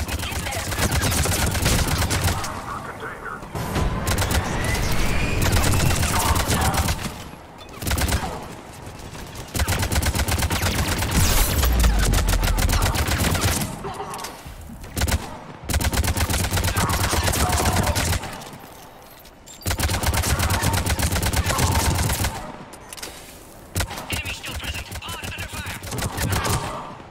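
Gunfire from Cerberus troops attacking Krogan at a checkpoint in Mass Effect 3 comes in loud, dense bursts of automatic fire with short pauses, continuing for most of the time.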